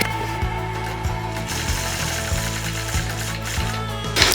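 A hand-guided quilting machine stitches across a quilt with a steady low mechanical hum and a soft regular clicking rhythm, close and continuous, with no talking.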